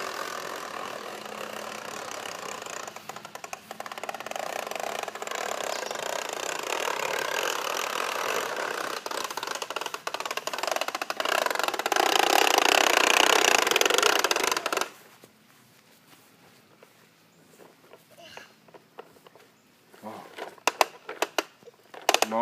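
A lawn mower engine drones steadily in a backyard, growing louder and nearer before cutting off abruptly partway through, after which scattered voices and small noises remain.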